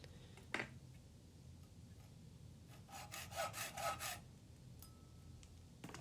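A file cuts a notch in a metal brace made from E.M.T. conduit, with a few short rasping strokes close by, quiet overall and not covered by any talking.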